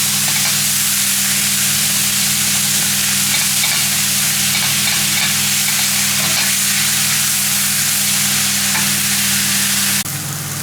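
Meat browning in a hot pan, a loud, dense and continuous sizzle with a steady low hum underneath, heard up close and without a break until it cuts off near the end.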